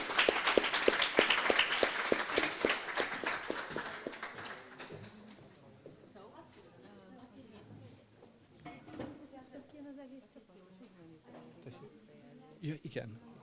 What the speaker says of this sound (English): I think it's worth a clap again.